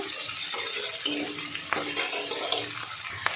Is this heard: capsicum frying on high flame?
yes